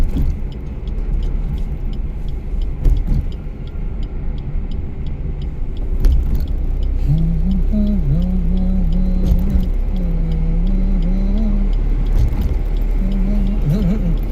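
A car engine rumbles steadily in fourth gear with the accelerator released during a driving lesson, a loud, continuous low drone inside the cabin, with a voice briefly heard partway through.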